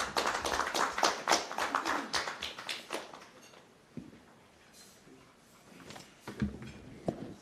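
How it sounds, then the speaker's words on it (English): Applause at a morning media breakfast meeting in Uganda, lively clapping for about three seconds that thins into quieter scattered claps and taps, with a few louder hand claps near the end. "Another round of applause for Mr. Lee Ofono Opondo."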